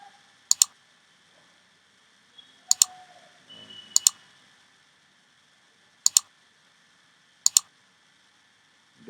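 A computer mouse clicks while working in a spreadsheet's data validation menu: five sharp, close double-clicks spaced a second or so apart, with no talking.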